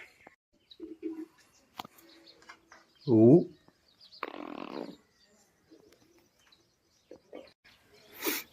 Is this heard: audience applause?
no